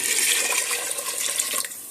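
Three litres of water poured steadily into a cooking pot for chicken shorba, a continuous splashing, gushing stream, close and fairly loud with no voices.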